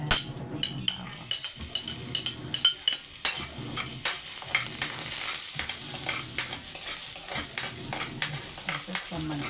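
Garlic sautéing in a hot pan gives a steady sizzle broken by scraping, clinking stirring strokes, with a voice speaking now and then in the background.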